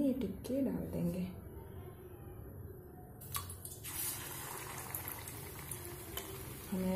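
Aloo tikki coated in besan paste sizzling as it goes into hot oil, a steady close bubbling fry with brief clatter at the start and a voice speaking over it.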